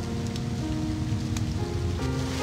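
Steady rain falls in the 7 Deadly Sins mobile game, a continuous dense patter with a few scattered louder drops and a faint tonal music bed underneath, no voices.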